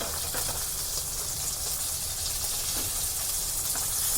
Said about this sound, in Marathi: पुन्हा आपण यांना दोन ते तीन मिनटं खालच्या बाजूने फ्राय करून घेऊया